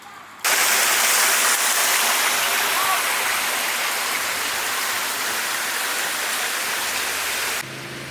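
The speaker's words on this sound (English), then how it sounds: "This park even has little man-made cliffs with man-made waterfalls." Water from a man-made waterfall splashes steadily over artificial cliffs in a Bucharest park, a dense continuous rush heard close for about seven seconds without talk.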